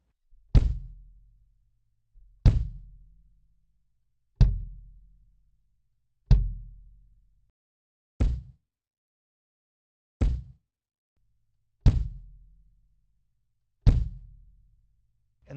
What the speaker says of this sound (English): put a really gritty kick drum at the same time as my acoustic kick